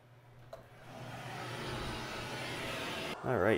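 A steady wash of passing traffic builds and holds, a broad low roar from nearby road noise heard indoors through a door, ending with a louder rumble.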